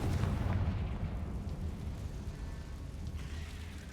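A fiery blast spell cast in the Hogwarts Legacy video game, a dense rumbling boom with crackling bursts that sustains loudly through the moment, no talk over it.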